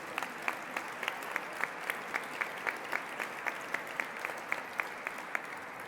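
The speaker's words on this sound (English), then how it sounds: "Let's give them a round of applause." An audience at the 2016 Profile in Courage Award Ceremony applauds, a dense, even wash of many clapping hands heard from a distance and holding steady throughout, with no talk.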